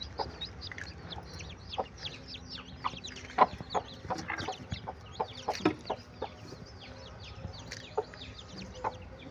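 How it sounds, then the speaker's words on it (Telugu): Hens and newly hatched chicks of a large breed cluck and cheep softly in a hatching setup, scattered short calls and peeps over a quiet, steady background with no talking. "ఇది పెద్ద కోడి గుడ్లు, పెద్ద కోడి పిల్లలు."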